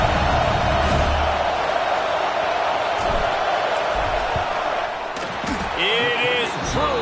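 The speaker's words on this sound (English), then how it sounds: "This crowd trying to do its part to get inside the kicker's head." Stadium crowd roaring during a field goal attempt in the college football video game CFB 26, a loud sustained wash of noise with a few whistles and whoops near the end.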